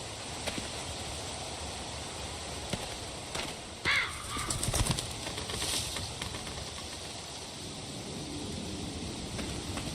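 Birds chirp in The Walking Dead video game (Season 1, Episode 2, Starved for Help). A few faint, brief calls rise midway over a low, steady outdoor ambience, with no voices.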